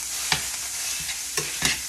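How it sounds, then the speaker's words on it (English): Ground meat sizzles loudly in a hot pan with extra fat while it is broken up. A few sharp utensil scrapes and knocks cut through the steady frying hiss. "So hear the sizzle. What I'm gonna do here is just break it up."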